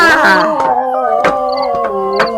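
A dog howls loudly and close by, a long wavering wail sliding in pitch across a couple of seconds, with short yips breaking in.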